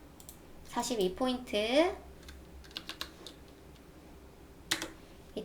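Computer keyboard keys and mouse clicks while text is entered in Photoshop, scattered sharp clicks after a short stretch of someone talking, with a louder click near the end.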